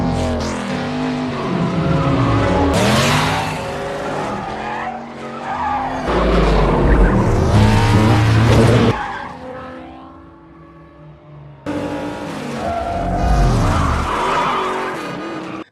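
A car chase from Fast and Furious 7 with loud tire squeals and skids, revving engines and bursts of action sound in several long passes, separated by a quieter stretch.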